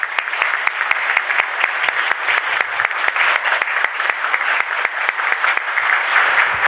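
At an inaugural Liberec city council session, the assembled members and guests give the newly elected mayor a long, steady round of dense applause, loud and close, with sharp clap accents running throughout.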